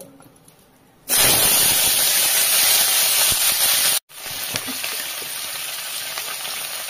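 Potato and cauliflower dropped into hot oil, a sudden loud steady sizzle that cuts off for an instant, then resumes slightly quieter and continues evenly.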